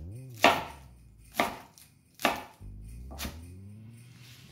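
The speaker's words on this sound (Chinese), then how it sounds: "准备一片高丽菜，要来熬高汤用的。 我们大略给它切成条状" A knife chops a cabbage leaf into rough strips for vegan soup stock, with four sharp, separate strikes close up and short pauses between them.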